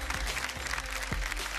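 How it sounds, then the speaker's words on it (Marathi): A studio audience at a televised children's dance competition claps in a dense, steady burst, with faint music or crowd murmur underneath. "जोरदार टाळ्या."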